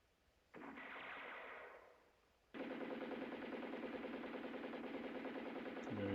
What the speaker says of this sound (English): you're hearing the gunshots in the back